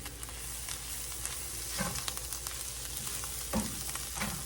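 Egg roll filling with melting Monterey Jack cheese sizzles steadily in a hot pan, a continuous frying hiss broken by a few soft scraping stirs near the microphone.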